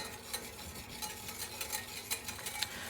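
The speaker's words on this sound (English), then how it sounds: "you have to keep whisking all the time because you don't want the butter to separate from the egg" Hollandaise sauce of butter and egg whisked steadily in a pan, giving faint, soft scraping and light tapping strokes in an irregular rhythm, with no voices.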